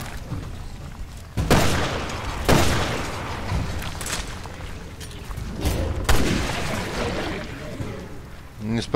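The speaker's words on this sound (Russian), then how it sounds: "Не спрашивайте, почему я схватил снайперку и так мастерски из нее выстрелил" Sniper rifle shots ring out in the video game Resident Evil Revelations 2, with several loud, booming reports spaced a second or more apart, each trailing off into a rumbling echo.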